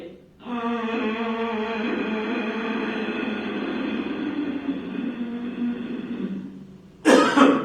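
A long, steady voiced hum drones for several seconds during a breathing exercise, then ends in one short, sharp, deliberate cough up close.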